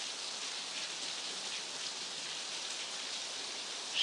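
Steady rain falls continuously, a dense even hiss of many drops on a surface, moderately close and with no voices throughout.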